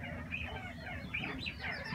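Quail housed in a large pen of several hundred birds keep up a steady, moderately loud flock chatter, with repeated high chirps and calls rising over a constant murmur of birds.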